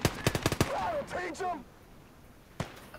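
Rapid bursts of MG42 machine gun fire in Gates of Hell: Ostfront, a fast rattling string of loud shots followed by a single later report, with a voice talking between the bursts.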